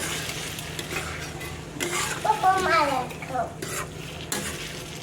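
Vegetables with strained yogurt get stirred and mixed in a frying pan, a soft sizzle under repeated scraping and clattering of a spoon against the pan that grows louder midway, then settles again.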